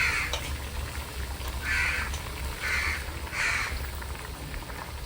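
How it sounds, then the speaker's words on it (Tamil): Crows caw in several separate bursts, moderately near, over a steady low rumble. "காக்காங்கெல்லாம் கேட்குதுங்க கா கா எனக்கு கொடுங்க எனக்கு கொடுங்கன்ட்டு"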